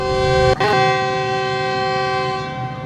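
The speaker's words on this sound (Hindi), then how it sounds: "ये सुना जी आपने पावरफुल विसल GV40 का" GV40 whistle on the Shalimar Express sounding one loud, sustained, harmonically rich train horn blast close by, briefly interrupted near the start, then tailing off over nearly three seconds with rail ambience beneath.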